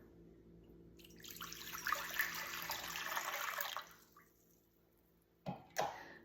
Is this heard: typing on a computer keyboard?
no